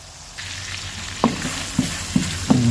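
Corned beef sautéed with pepper in a pan, a soft sizzle under a handful of distinct spatula knocks and scrapes that come in quick succession toward the end, close up with no talk.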